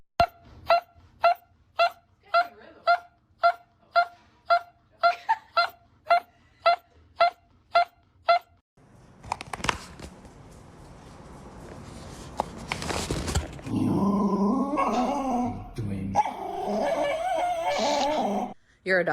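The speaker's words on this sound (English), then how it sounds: "this dog was waking up from anesthesia and started glitching." A dog coming out of anesthesia lets out a string of short, regular whimpering yelps, then drawn-out moaning wails and groans, close and fairly faint, with a person's voice near the end.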